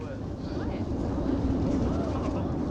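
An F-16 Falcon fighter jet flies alongside an aircraft, its steady broadband jet roar blending with the cabin engine rumble, continuous and fairly loud throughout.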